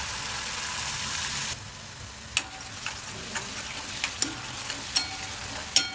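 Soaked moong dal with turmeric frying in a pan, a steady broadband sizzle that drops slightly in level partway through, punctuated by several sharp ticks and clinks of a utensil against the pan.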